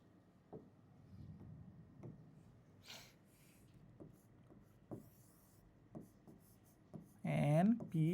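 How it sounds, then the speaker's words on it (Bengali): Pen or marker writing on a board or paper, a series of faint scratchy strokes and taps at irregular intervals, with a voice speaking briefly at the end. "নিচে লিখি একটু"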